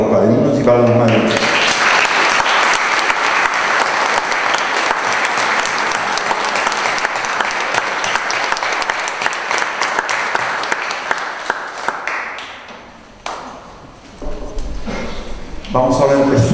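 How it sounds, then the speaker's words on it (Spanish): A congregation at a church confirmation service applauds godparents, loud sustained clapping for about twelve seconds that tapers off, followed by a voice speaking. "Yo pido un aplauso para los padrinos y para las madrinas."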